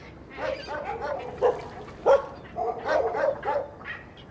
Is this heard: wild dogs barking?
yes